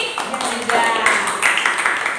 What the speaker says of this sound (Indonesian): tepuk tangan dulu untuk kelompok dari kelompok berapa?